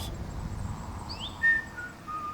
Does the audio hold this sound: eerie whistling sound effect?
yes